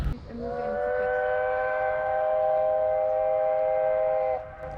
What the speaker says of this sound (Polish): faktycznie już nieraz słyszeliśmy dźwięk tego parowca